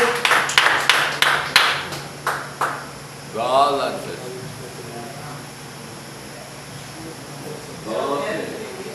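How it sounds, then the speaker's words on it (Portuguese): A congregation at a church service gives a short run of sharp, rhythmic claps, about eight distinct hits that fade out, followed by a speaker's voice. "palmas para o Senhor"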